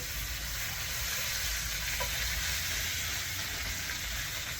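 Steak sizzles steadily in melted butter with garlic and rosemary, a soft, continuous frying hiss with faint crackles throughout, no voices.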